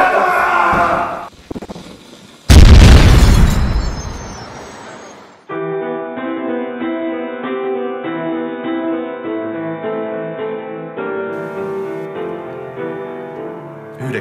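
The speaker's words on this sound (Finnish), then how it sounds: "Räjähtää!" A military ammunition depot on Vallisaari explodes: a sudden, loud, broadband blast with a long roaring decay, followed by a steady droning tone.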